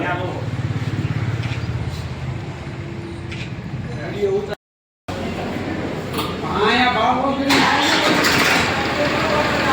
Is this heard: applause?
no